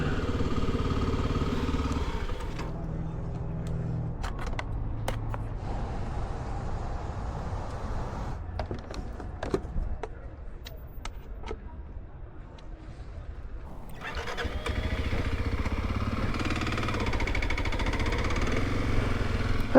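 A motorcycle engine runs steadily near the hardware store in Telluride, Colorado, with a dense low rumble that dips quieter midway, scattered clatter, then rises louder again toward the end.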